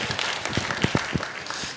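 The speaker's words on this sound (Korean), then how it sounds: "우리 한번 축복의 박수 한번 부탁드리겠습니다." A church congregation gives a short burst of clapping during a Sunday worship service, scattered individual claps rising out of a soft, diffuse patter at moderate distance.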